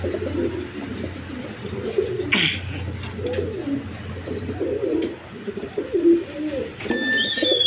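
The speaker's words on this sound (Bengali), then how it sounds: "তাছাড়া প্রচুর পরিমাণে গোলা গিরিবাস কবুতর আছে, অবশ্যই নিয়ে নিতে পারবেন।" Pigeons, including large giribaz and other fancy breeds, cooing at a seller's stall, soft repeated throaty coos close by with occasional wing flaps and faint bird chirps in the background.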